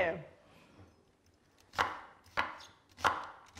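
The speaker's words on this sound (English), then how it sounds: "Maybe you can let me start chopping." Knife chopping Trinity vegetables on a cutting board for gumbo, three sharp distinct chops spaced about half a second apart after a quiet start, close and clear with no talking.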